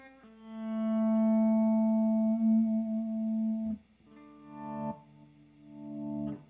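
An electric guitar runs through a Wampler Terraform multi-modulation pedal, with a sustained distorted note that cuts off and restarts in choppy stuttering bursts, played alone without talk.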